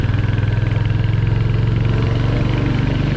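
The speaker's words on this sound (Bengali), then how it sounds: "খারাপ পাহাড়, বাইক প্রপার পাওয়ার ডেলিভার করতেছে" A Royal Enfield motorcycle engine pulls steadily up a steep hill road around Thanchi in third gear, a loud, close, continuous low drone with a constant throbbing pulse.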